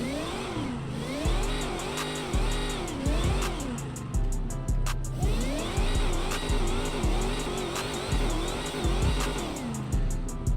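A modified Dodge Charger Demon engine in GTA V revs repeatedly in rising and falling sweeps, loud and close, with brief gaps between pulls and a sharp pop midway.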